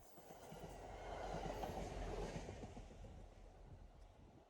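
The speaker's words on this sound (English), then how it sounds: "Nowadays, a variety of MBTA commuter rail trains pass through here." An MBTA commuter rail train passes a trackside spot near an abandoned station, a broad rumbling roar with steady wheel clatter that swells to a peak midway and then eases off, with no voices.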